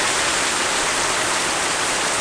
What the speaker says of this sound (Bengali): কত জোরে বৃষ্টি হচ্ছে।